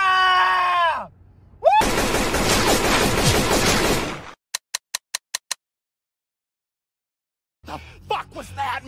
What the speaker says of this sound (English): Can you scream as loud as you can?